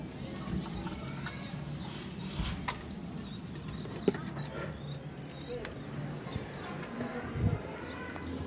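Soft pigeon coos repeat at a low pitch against a steady background murmur, with an occasional flutter or knock.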